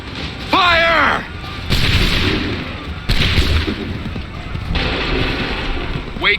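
Musket volleys in the Assassin's Creed 3 video game boom out as several loud, sharp blasts spaced a second or so apart, each trailing off, with a shouted voice in between.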